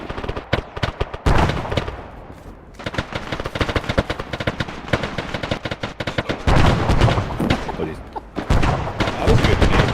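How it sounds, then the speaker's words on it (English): In the Arma 3 video game, heavy combat rumbles on with dense, rapid gunfire bursts and deep booms, one of them a grenade explosion, all loud and near without pause, while a voice talks faintly underneath. "That was a good grenade."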